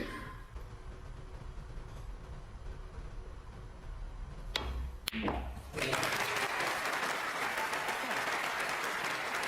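Snooker crowd bursts into sustained applause after a shot in a match featuring Judd Trump, the clapping rising suddenly from a quiet hall after a couple of sharp knocks and continuing steadily.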